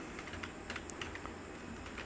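Java code typed on a computer keyboard, a quiet, steady patter of close keystrokes with a few slightly sharper clicks, alone over faint background hiss.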